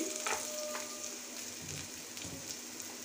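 Chopped ginger and garlic sizzle in hot oil in a home kitchen, a soft, even, hissing crackle throughout, fairly faint and without any voices.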